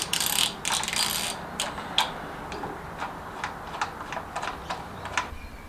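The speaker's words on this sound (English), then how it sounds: "Just doing up the final bolts now." A ratchet clicks in quick bursts while the final bolts are tightened on a K Series valve cover, with close, dry ticking strokes that slow to scattered single clicks.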